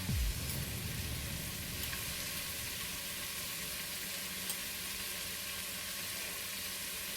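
Onions sizzle steadily in hot ghee for egg biryani, a continuous close frying hiss with no pauses and no voices.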